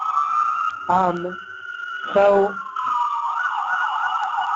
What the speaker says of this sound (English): there's a little bit of ambulance here in the background